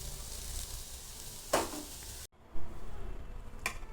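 Onions sautéing in a pan, a steady close sizzle broken by a sharp stirring scrape, a brief near-silent gap, then the frying resumes loudly with another short scrape.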